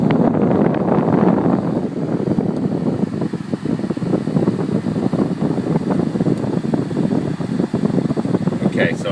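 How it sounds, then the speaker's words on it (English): Steady broadband blowing of a car's air conditioning fills the cabin, a constant close rush of air with faint mechanical hum and small rattles. "The air conditioning, we're going to kick that on."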